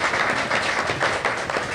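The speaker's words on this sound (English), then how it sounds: "Clap for Avleen for designing that" Audience applause at a Punjabi men's mental health podcast event, a dense wash of many hands clapping at moderate distance, steady and sustained through the whole moment with slight swells, no voices on top.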